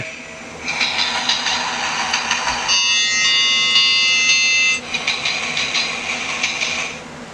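A loud electronic sound effect from an Adventure Force toy railway locomotive rings out alone, a buzzy, bell-like tone with a brief switch in pitch midway before continuing for several seconds.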